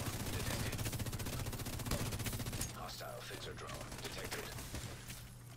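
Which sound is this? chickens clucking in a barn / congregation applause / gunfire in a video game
gunfire in a video game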